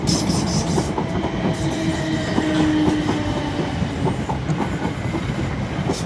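A suburban train arrives at Clapham Junction, rumbling in steadily with rhythmic clickety-clack of wheels and a brief metallic squeal, loud and close throughout.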